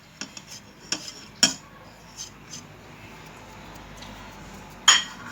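Spoon stirring a spiced sauce in a cooking pot, with scattered metallic clinks and scrapes against the pot at irregular intervals, close and fairly quiet.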